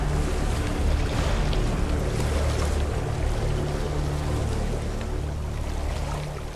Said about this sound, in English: the waves can really knock you off